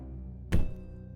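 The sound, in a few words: single loud thud from the ceiling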